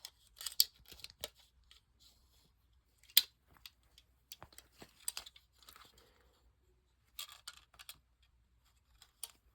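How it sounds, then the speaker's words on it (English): A plastic zip tie pulled through the loops of an arm bracer, heard as scattered quiet scratchy clicks and rasps in short irregular bursts with silent gaps between. "Now we're going to run the zip tie right through here."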